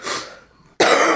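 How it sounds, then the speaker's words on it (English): Two bursts of coughing from a person feeling unwell, close and loud, the first fading into a brief pause before a second harsh cough or throat clearing breaks in. "We're so sorry that we just keep coughing."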